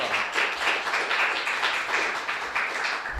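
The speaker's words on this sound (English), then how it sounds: "a nice applause" A meetup audience applauds a speaker at a Rust programming meetup, with steady clapping from many hands filling the room at moderate volume.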